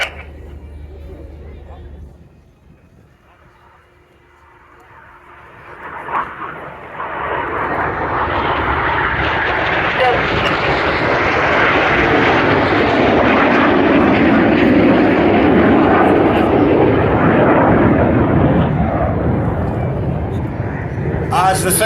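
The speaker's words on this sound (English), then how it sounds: "Each aircraft will perform a barrel roll." RAF Red Arrows jets flying a double barrel roll at an airshow, a deep roaring jet rumble that swells loudly and holds as the formation passes close overhead, with a commentator speaking over it.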